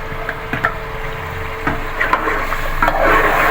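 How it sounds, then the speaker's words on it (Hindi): Mustard greens (saag) going into a pan of fried meat, with close stirring scrapes and knocks over a soft steady sizzle that thickens toward the end. "गोश्त भून के हमारा तैयार हो गया है। अब इसमें हम साग ऐड करते हैं।"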